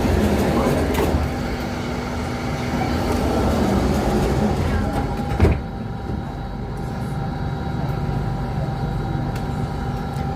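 An SMRT Circle Line C830 train riding from Botanic Gardens toward HarbourFront in Singapore, a steady loud rumble and hum of the carriage in motion, with a brief clunk midway and faint speech over it.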